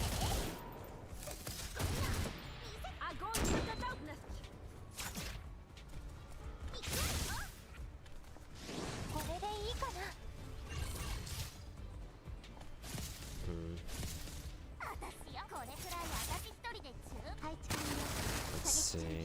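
Shotgun blasts in a video game, a gold shotgun fired in repeated sharp booms at an irregular rhythm, mixed with whooshes and crashes and heard partly under talking.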